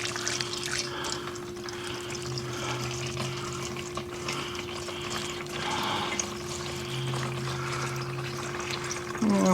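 Used engine oil draining from a 2007 Ford F-150 Lariat 5.4L V8 into a pan, a steady continuous pouring stream heard close and unbroken throughout.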